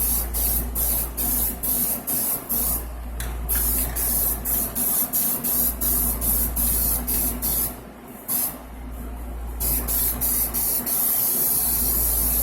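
A can of Rust-Oleum gloss spray paint hisses in a long series of short, close bursts for spray-painted art, each spurt a sharp airy spray separated by brief gaps, over a low steady hum.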